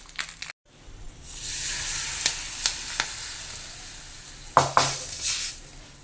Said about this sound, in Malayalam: ചൂടോടെ തന്നെ നമ്മുടെ അച്ചാറിൻ്റെ മുകളിലോട്ട് ഒഴിച്ചു കൊടുക്കാം